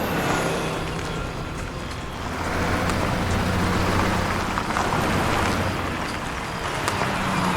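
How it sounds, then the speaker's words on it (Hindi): A car is driven inside by a driver during a kidnapping scene in a CID crime drama, giving a steady, close broadband rumble with a rain-like hiss that swells and eases, and no talking. "ड्राइवर गाड़ी अंदर लगाओ।"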